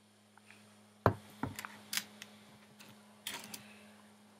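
A Bedini motor machine runs with a low steady hum, broken by sharp clicks and ticks. The ticks come irregularly and are heard close up, with no speech.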